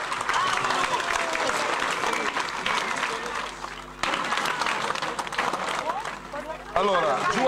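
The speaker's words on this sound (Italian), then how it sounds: "Via, applauso alla squadra di Campobasso." Loud, sustained crowd applause at an outdoor political rally in Campobasso, dense clapping mixed with cheers and voices that carries on without a break.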